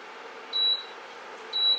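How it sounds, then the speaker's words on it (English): Two short electronic beeps about a second apart, steady and fairly close, over a faint background hum. "This is my thing beeping here."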